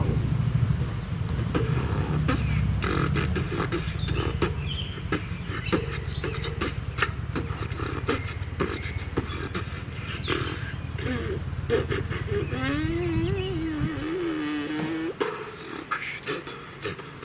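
Beatboxer's voice imitates a motor engine, a continuous buzzing low drone running throughout with shifting pitch, rising into a wavering revving whine near the end, close and fairly loud, with bits of other voices around it.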